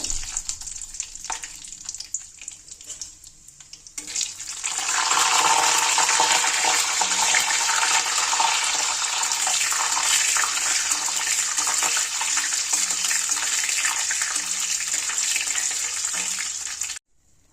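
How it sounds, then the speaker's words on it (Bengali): Nuts dropped into hot refined oil in a pan start a loud, steady sizzle that swells after a few quiet seconds and holds evenly, close up, until it cuts off at the end. "তেল গরম হয়ে গেছে, বাদামগুলো ভেজে তুলে রাখবো।"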